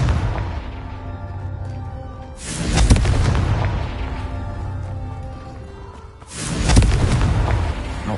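Two loud Confringo blasting-spell explosions in a wizard video game, each a deep booming burst with a long rumbling tail, about four seconds apart over a low ambient bed.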